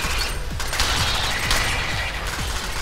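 Rapid gunfire in the video game Alien Swarm, a steady stream of shots with mechanical clatter running throughout, fairly loud and unbroken.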